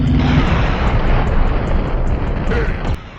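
A rocket launcher explosion in the Nintendo 64 shooter Turok, a loud, dense rumbling blast that fills about three seconds and then drops off abruptly.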